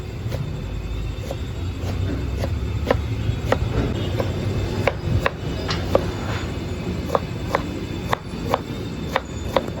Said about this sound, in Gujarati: ગાજરનું કટિંગ ચાલુ થઈ ગયું છે